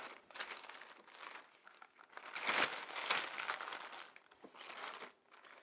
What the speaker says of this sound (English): Just simply insert the vac mouse into the bag.